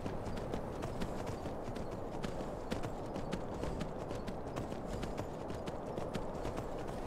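Horse hooves gallop in Skyrim at a steady, rapid clip-clop, loud and close throughout over a dense wash of game ambience, with no talk.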